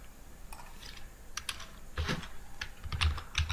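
Close-up typing on a computer keyboard while entering a MySQL query: a continuous, irregular run of clicking keystrokes with small pauses and a few heavier key presses, with no voice.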